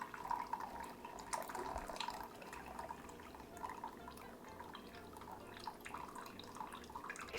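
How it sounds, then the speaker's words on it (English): Juice from lean cooked ground round poured off a pan, a faint trickling and dripping of liquid with small splashes over a quiet kitchen background. "I'm just going to pour off whatever juice was in the pan"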